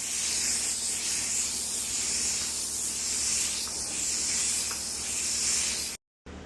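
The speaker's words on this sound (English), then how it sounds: "this gives me a wider spray, but I'm trying to keep the overspray down" A steady, even hiss of spraying runs for several seconds at moderate volume, then cuts off abruptly near the end.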